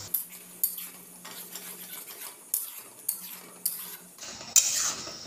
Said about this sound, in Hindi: मैं इसमें डाल दे रही हूँ हमारा तैयार किया हुआ मसाला। अब मसाले को 5 मिनट सिर्फ हम लोग फ्राई करेंगे